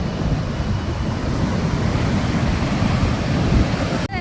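Sea waves roll onto Azheekal beach on a dark-sand shore before a cyclone in a loud, continuous roar of surf mixed with wind buffeting the microphone, and no one speaks.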